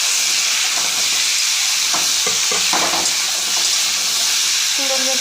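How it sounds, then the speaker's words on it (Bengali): Raw pumpkin pieces fry in a pan with spices and green chillies, giving a steady loud sizzle broken by a few scraping stirs and utensil clinks, with no talking. "কুমড়োগুলো একটু ভাজা ভাজা হয়ে গেছে।"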